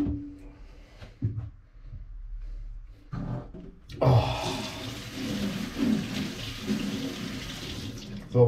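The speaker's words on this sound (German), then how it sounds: "Ein bisschen Wasser rein." After a quiet stretch with a few soft knocks, water suddenly gushes from a tap, splashing steadily and fairly loudly into a container.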